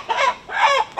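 A live chicken clucking in two or three loud, close bursts with short pauses between them, heard on its own without any talk.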